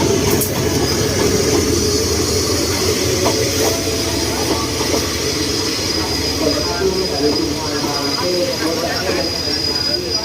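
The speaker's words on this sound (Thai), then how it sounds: "GEA นะครับ หมายเลข 4554ทำขบวน 233 นะฮะ ก็มีพ่วงตู้สัมภาระมาหนึ่งตู้ด้วยนะครับ" A GEA diesel locomotive, number 4554, hauls ordinary train 233 with one baggage car at Bang Sue Junction. A loud, continuous rumble of rolling rail cars carries throughout with faint wheel squeal and clatter.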